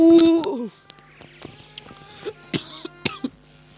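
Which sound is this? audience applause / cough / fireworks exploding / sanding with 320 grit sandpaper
cough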